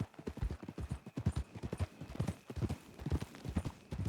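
Horse hooves clip-clop at a steady walking rhythm in Red Dead Redemption 2, close and fairly soft, with faint game ambience underneath and no talk.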